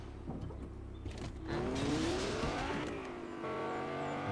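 A car driving in the Fortnite video game, its engine revving and rising in pitch over a steady game background, fairly loud and continuous, with no talk over it.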